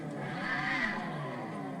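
A Ford Mustang exhaust revving as played back from a recording, a sustained, moderately loud engine roar that swells slightly in the middle, with no talk over it.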